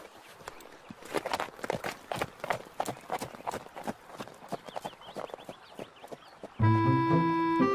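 Horse hooves clip-clop in a steady, fairly close rhythm as a rider moves off. The hoofbeats carry on alone for several seconds before music takes over at the very end.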